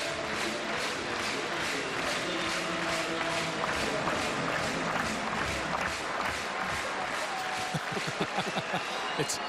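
A crowd at a Cubs baseball game against the Royals claps along in a steady rhythmic beat, a broad stadium roar with voices mixed in throughout.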